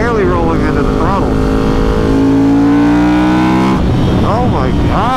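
A Ducati motorcycle, set up as a dirt bike, pulls hard as the throttle is rolled open, its engine note rising in smooth sweeping pitch close to the microphone with wind rush over the riding, loud and steady throughout.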